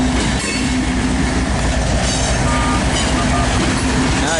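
A loud freight train rolls past up close with a distributed power locomotive, its steady rumble and wheel clatter filling the whole stretch, faint squeals riding on top.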